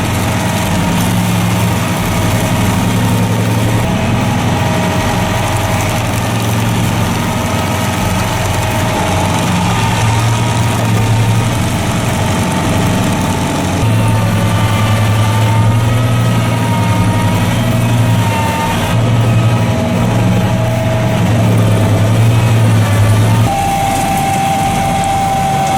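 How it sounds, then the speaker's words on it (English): A massive, high-horsepower stump removal excavator runs steadily, its heavy engine idling and droning loudly with constant low rumble and vibration for the whole stretch, no voices. "With its massive horsepower engine, it effortlessly crushes giant tree stumps in an instant"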